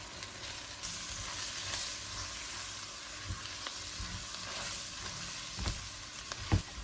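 A garam masala mixture for Kerala-style duck roast being stirred in a pan over low flame, with a soft continuous sizzle and scattered scrapes and knocks of a spoon, growing a little louder toward the end.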